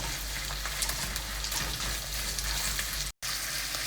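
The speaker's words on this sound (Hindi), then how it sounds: "अब इसमें चिकन डालेंगे।" Chicken and onions fry in a hot pan with a steady, close sizzle and crackle and a few soft stirring scrapes, no voices.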